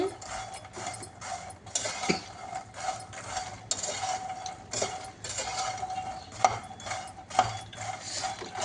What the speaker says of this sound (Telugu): ఇలా సాల్ట్ బాగా స్ప్రింకిల్ చేసి అటు ఇటు మంచిగా కలుపుకోవాలండి